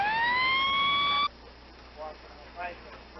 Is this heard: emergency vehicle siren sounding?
yes